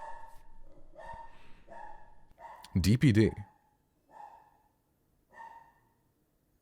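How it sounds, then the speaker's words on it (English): Indoor dog barks and yips in a short loud burst around the middle, set against someone talking close to the mic, with a few quieter vocal bits after. "My dog is probably going crazy right now."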